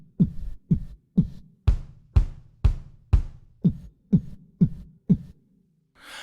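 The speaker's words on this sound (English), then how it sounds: "Let's do some practice with a real bass drum." Real bass drum beats in a steady series of about eleven deep thumps, evenly spaced and fairly quick, each short and punchy, played alone and close, with a faint rustle right after.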